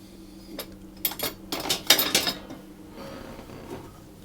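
Thick mascarpone mixture for a strawberry tart scraped from a bowl into a larger bowl, a handful of close clinks and scrapes of utensil against bowl clustered in the middle, quiet otherwise.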